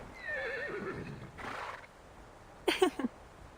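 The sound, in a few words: horse neighing in a video game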